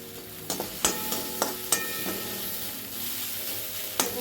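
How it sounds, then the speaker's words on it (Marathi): Samosa filling frying in a pan with a little oil gives a steady close sizzle, with soft stirring scrapes and a few sharp clicks from the spoon against the pan. "छान असं फ्राय करून घ्यायचं."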